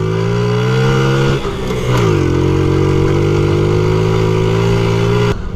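A 1993 Honda Z50R minibike is ridden close up with a loud, buzzy small engine note that drops in pitch as it shifts down to first, then holds steady.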